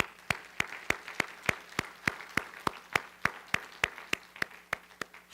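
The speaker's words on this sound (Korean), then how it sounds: "우리 하나님께 영광의 박수 돌립니다" Crisp, evenly spaced claps repeat in a steady rhythm, about three per second, like a church congregation clapping in unison during a sermon.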